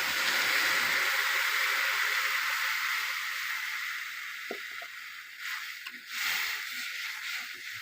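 Water pours into a pot of curry with a rushing, hissing splash that fades over several seconds, then gentle sloshing and a few soft clinks, close by with no speech.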